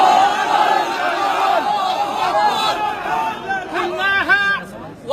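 A large crowd of Palestinian worshippers gathered at Al-Aqsa, a dense roar of voices and chatter with a few sharper shouts rising near the end, a speaker talking over the throng.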